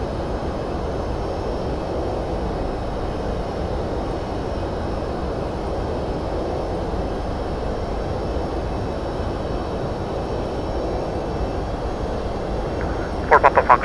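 Boeing 767-300 jet engines in the X-Plane 11 flight simulator produce a steady, loud cabin drone that holds unchanged throughout, with a short rattling burst near the end.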